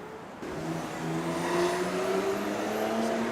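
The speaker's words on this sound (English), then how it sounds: "Another 911, sounds like a turbo." A Porsche 911 Turbo accelerates away at a distance in Miami, its engine note climbing steadily through the gears, fairly faint over outdoor background.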